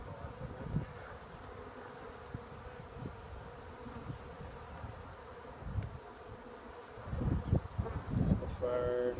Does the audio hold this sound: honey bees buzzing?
yes